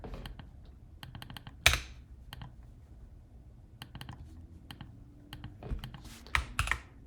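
Keyboard shortcut typed on a computer keyboard while setting up Ubuntu on an M-series Mac: scattered crisp key clicks in short bursts, a few louder taps, close and alone with no talk.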